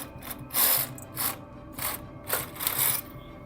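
A knitting machine working fuzzy yarn into a sock gives rhythmic mechanical clacks and ratcheting sweeps as the carriage passes back and forth, about five close, loud strokes in quick succession.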